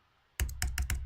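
Computer keyboard keys are tapped in a quick burst of about four crisp, close clicks after a moment of near silence.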